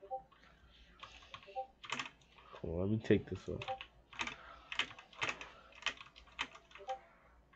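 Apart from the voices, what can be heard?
computer keyboard typing while playing Roblox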